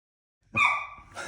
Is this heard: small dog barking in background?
yes